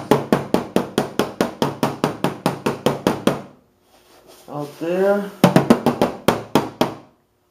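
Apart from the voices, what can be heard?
hammering on a body spoon, Subaru body work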